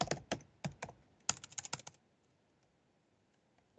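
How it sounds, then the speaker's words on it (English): Rapid clicking keystrokes on a computer keyboard, two quick bursts of typing close to the mic, then the keys stop and the room goes quiet. "I've just about finished typing anyway."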